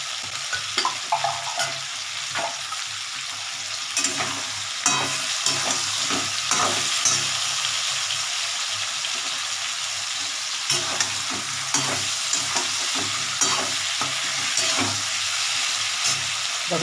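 A fish head frying in ghee in a pan for a Bengali vegetable dish gives a continuous, fairly loud sizzle, broken by repeated scraping and stirring clatters and with no talking.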